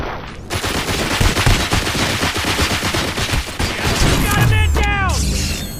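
Dense, loud gunfire crackles without pause in the video game RoboCop: Rogue City, rapid automatic bursts layered with impacts and mechanical clatter, ending with a few descending whooshing shots.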